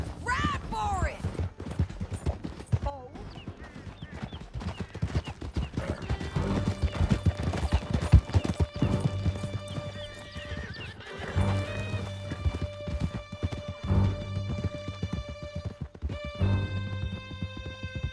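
Several horses gallop hard with steady clip-clop hoofbeats and loud neighs and whinnies during a canyon chase in the Red Dead Redemption 2 video game, with scattered gunfire and shouting voices over the hooves.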